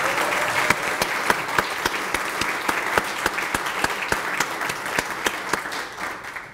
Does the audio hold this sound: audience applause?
yes